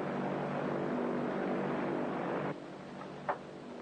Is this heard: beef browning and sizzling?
no